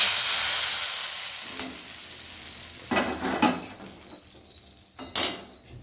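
Hot tempering poured into a drumstick leaf kootu sizzles loudly at first, the hiss fading steadily, with a few sharp clinks of a utensil against the pot near the end.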